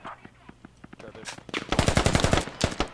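Video game gunfire from a squad match: a few light, spaced shots at first, then a close, loud rapid burst of automatic fire with a second short volley, under faint talk.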